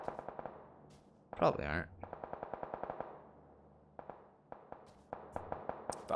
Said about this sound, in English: That's a suppressor sniper to her, like, 260, I think.